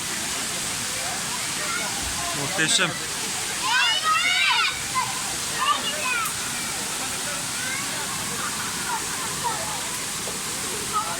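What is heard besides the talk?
waterfall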